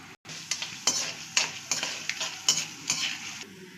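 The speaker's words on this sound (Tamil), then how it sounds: "இப்போ எண்ணெய் ஊற்றிக்கலாம். கடுகு போட்டுக்கலாம். உளுத்தம் பருப்பு போட்டுக்கலாம். கடலை பருப்பு 4 போட்டுக்கலாம்." Mustard seeds, urad dal and chana dal sizzle steadily in hot oil in a pan, with a run of sharp stirring scrapes and spoon strokes at roughly half-second intervals over the frying hiss.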